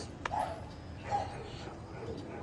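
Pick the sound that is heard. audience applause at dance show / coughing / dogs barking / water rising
dogs barking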